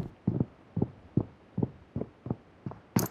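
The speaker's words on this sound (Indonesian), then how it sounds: "Langkah kaki saat berjalan di tangga." Footsteps climbing a staircase in PUBG Mobile, about seven dull, heavy, low thumps at a steady walking pace, fairly loud and alone, ending on a brighter scrape.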